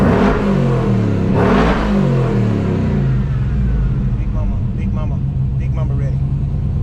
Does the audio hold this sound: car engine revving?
yes